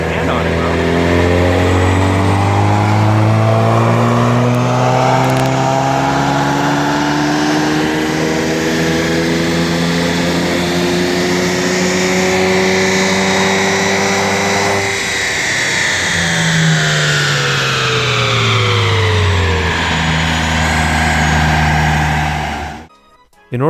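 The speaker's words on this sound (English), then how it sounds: "In order to get a smooth recording on the dyno, he decided to start the pulls from 4000 RPM" A tuned 2016 Chevrolet Camaro with the 2.0-litre turbo four revs loudly on a dyno, its engine note climbing steadily through a long pull, dipping briefly and rising again before cutting off abruptly, with no talk over it.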